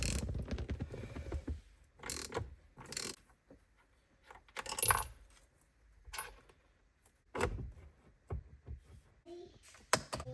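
A 24mm steering wheel bolt on a Jeep Wrangler is loosened with a ratchet, giving bursts of clicking and metallic rattling separated by quiet pauses.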